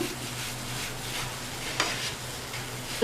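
Semolina and maida dough stirred together in a pan on a stove, a faint steady scraping and soft sizzle running throughout with a slight bump near the end.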